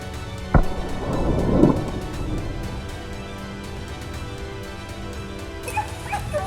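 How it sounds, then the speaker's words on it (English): Hunting dogs bark and yelp while chasing a wild boar on a mountainside. The barks come in a short, fairly distant burst near the start, with one sharp knock, then scattered faint yips over outdoor ambience. "Shouts and barking echoed across the mountain"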